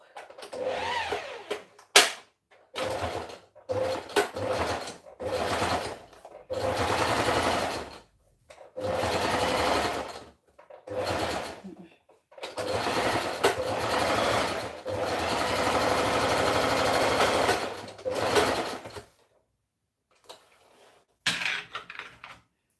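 A sewing machine stitches a pair of pants in repeated bursts of fast mechanical whirring, each run lasting a second or several, separated by short silent pauses.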